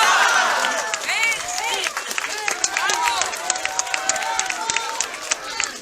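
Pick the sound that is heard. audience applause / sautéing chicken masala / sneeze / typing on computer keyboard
audience applause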